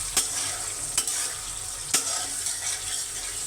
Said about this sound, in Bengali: এখন মাছগুলো ঢেলে নেব, ঢেলে দিয়ে মাছগুলো কষিয়ে নেব সুন্দর করে